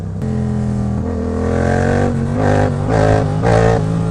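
A Yamaha MT-07 motorcycle engine revs hard in third gear during a wheelie attempt, a close, loud harmonic drone that climbs and surges in repeated pulses of throttle.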